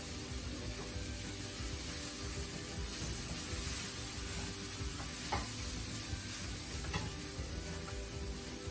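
Ragi vermicelli simmers in a pan on low flame, a steady soft sizzle and bubbling hiss with faint scraping stirs, close and continuous, no talk.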